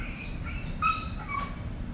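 A dog gives a few short whimpering yips and barks over a steady low background hum, moderately close and fairly faint, with no talk.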